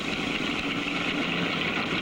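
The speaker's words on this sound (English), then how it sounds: "And look at this vehicle, a reverse Corvette, a 67, with a 67 Dodge Hemi fuel-injected engine." A 1967 Dodge Hemi fuel-injected engine in a '67 reverse Corvette drag racer runs with a steady, rough, throbbing drone, loud and continuous throughout with no voices.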